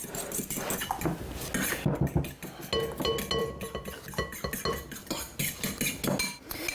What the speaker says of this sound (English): Okay, so just give those a mix.